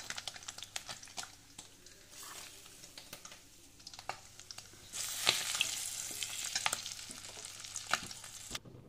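Paneer fries in hot oil in a pan, a soft crackling sizzle with scattered pops and clinks of stirring, growing louder midway and ending abruptly, with no talking.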